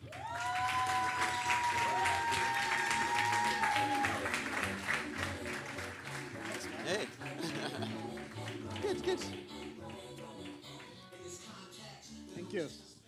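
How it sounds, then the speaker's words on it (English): Audience applause for a guest speaker at a Startup Grind Cape Town event, a broad steady patter of clapping through the room with music and some talk mixed in, fading slightly toward the end. "Ladies and gentlemen, let's give a big round of applause for Amod Sheraan."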